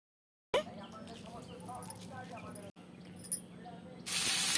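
Hilsa fish pieces dropped one by one into hot mustard masala: a steady, close hiss of sizzling oil that swells into a louder burst near the end, with a voice faintly underneath.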